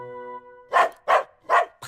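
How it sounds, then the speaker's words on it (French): Praline, a small cartoon dog, barks three sharp, yappy times in an even rhythm, close and loud, following a short tonal sound. "Praline, n'aboie pas après les résidents"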